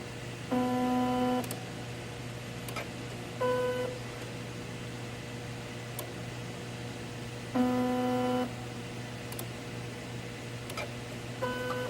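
A K&S 4526 wedge bonder's Y motor drives the table front to back, giving short whirring tonal bursts that repeat at irregular intervals over a steady machine hum, fairly quiet and with no talking.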